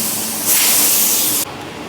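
A short blast of compressed air clears debris off a Mitsubishi Lancer Evo 8 part mid-rebuild, a loud, steady hiss lasting about a second that then cuts off abruptly into quieter background noise.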